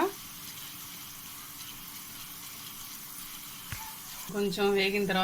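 Coriander seeds frying in hot oil after mustard seeds, for a tomato onion chutney, give a steady, fairly quiet sizzle throughout, with a voice briefly coming in near the end.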